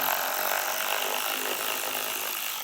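A power tool whirs steadily while loosening an 8mm screw on a 2024 Ford Maverick, a continuous close high-pitched buzz lasting throughout and tapering slightly at the end.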